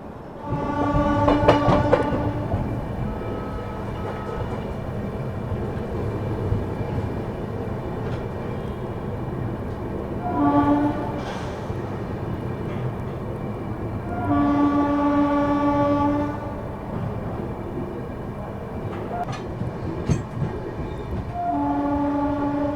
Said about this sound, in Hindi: क्या मस्त रफ्तार में गई है भाई अपनी पुरुषोत्तम एक्सप्रेस।